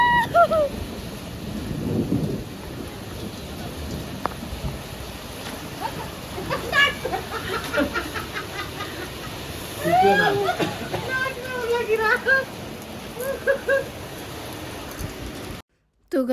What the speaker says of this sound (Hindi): बहुत ज़ोर से ओले पड़ रहे हैं।